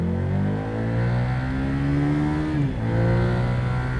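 A 2024 Buell Hammerhead motorcycle engine revs up steadily at close range, its pitch climbing smoothly before dropping abruptly and settling into a lower, throbbing idle, heard alone without talk.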